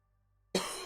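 A man gives a single short, close cough after near-silence, followed by a brief second catch of breath.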